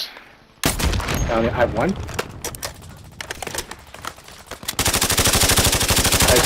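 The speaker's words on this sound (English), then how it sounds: "This shooting coming from that way, though." Rapid bursts of automatic gunfire in a Call of Duty match, loud and close, with a dense rattling volley near the end, while players talk over the shooting.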